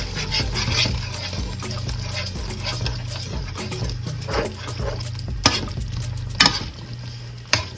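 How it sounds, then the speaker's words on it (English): A spoon stirs turkey wings and broth in a pot, with continuous wet scraping and sloshing, some sharp clinks against the pot and a steady low background hum, close up and fairly loud. "And stir this up."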